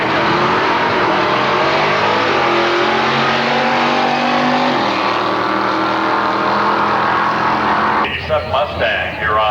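Drag cars launch at a Super Ford event at Milan Dragway, an 83 Mustang GT with a 351 Cleveland beside a Pinto wagon, giving a loud sustained roar that cuts off near the end as an announcer talks.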